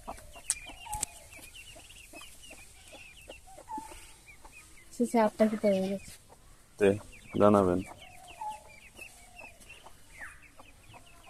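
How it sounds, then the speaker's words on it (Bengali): Ducklings kept as backyard pets give repeated high, thin peeps throughout, close and fairly soft, while someone speaks over them in places. "হাঁসের বাচ্চাগুলো দেখতে কিন্তু অনেক সুন্দর"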